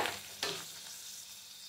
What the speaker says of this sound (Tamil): இப்போ இத நல்லா ரோஸ்ட் பண்ணிக்கோங்க